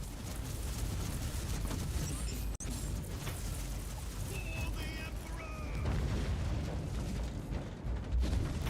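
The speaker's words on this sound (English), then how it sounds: "I don't believe they should be able to drop this many airstrikes on me." Airstrike explosions in Warhammer 40,000: Inquisitor – Martyr, a continuous heavy rumble of booming blasts with a sharp crack partway and scattered high metallic pings, dense and loud throughout.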